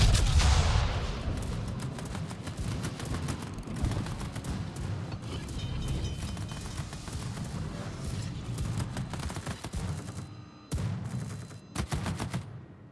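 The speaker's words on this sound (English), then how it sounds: "Now, let's get some shells on that aircraft carrier that's been messing with me so much" Naval shell salvos fired at an aircraft carrier in the World of Warships naval combat game: dense, continuous rumbling gunfire with repeated heavy booms and crackling bursts, loud throughout, briefly dropping out near the end.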